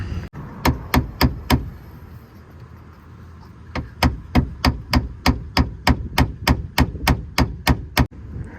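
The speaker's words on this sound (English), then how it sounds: "So I'm gonna try and hammer that back out" Sharp metallic hammer blows on a bent car wheel arch, four quick strikes, a pause, then a long even series of repeated hits on metal, close and loud.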